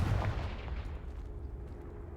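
A Confringo blasting spell goes off in the video game Hogwarts Legacy: one loud, booming explosion at the start that rumbles and fades over about two seconds, with no voices over it.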